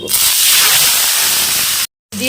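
Olives tipped into hot oil in a wok with dried red chillies and five-spice seeds, giving a loud, steady hiss of sizzling that runs almost two seconds before cutting out.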